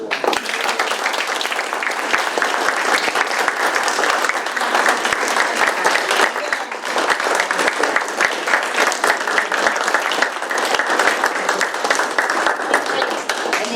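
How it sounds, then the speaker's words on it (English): A long round of applause from the audience at a city council meeting in Universal City, Texas, with dense, steady clapping that holds for the whole stretch. "So let's give them a phenomenal round of applause."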